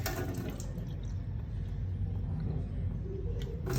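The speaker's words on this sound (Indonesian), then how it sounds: "kita akan menyalakan keran kembali, lalu memasukkan sampel ke dalam wadah sebanyak 3/4 wadah" Tap water running into a sample container during microbiological sampling, a steady close rushing stream with low rumble that continues throughout without talk.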